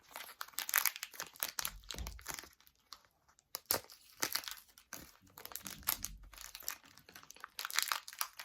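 A food package, apparently holding coconut, is peeled open by hand, giving repeated close, loud crinkling and tearing bursts of plastic wrapper with brief pauses between them.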